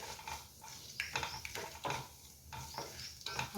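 Mustard seeds splutter in hot oil while tempering a chutney, giving faint, irregular bursts of crackling and popping over a low sizzle, with no talking.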